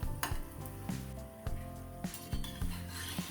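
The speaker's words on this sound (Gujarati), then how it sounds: "ગોલ્ડન બ્રાઉન થાય ત્યાં સુધી આપણે ભજીયાને તળી દઈશું" Stuffed green chilli bhajiya deep frying in hot oil give off a steady, fairly soft sizzle with occasional light clinks of a utensil against the pan.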